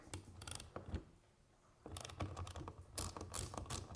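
A ratchet tightening a fastener on a belt file, bursts of quick close clicking, a short pause, then a longer run of rapid clicks.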